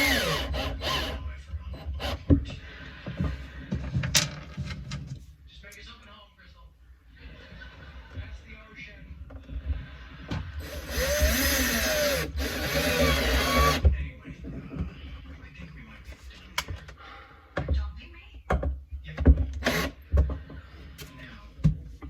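Half-inch panhead screws driven into wood while fitting pull-down shades in the pilot house of a micro tug boat, a whirring power driver burst mid-way among scattered knocks and rubbing, with someone talking over much of it.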